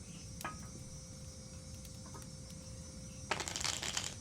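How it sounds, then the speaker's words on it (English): A brief soft riffle of tarot cards being shuffled near the end, preceded by a single faint flick, over a steady background of chirping crickets. "let me shuffle these cards"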